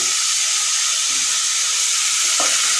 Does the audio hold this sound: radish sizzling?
yes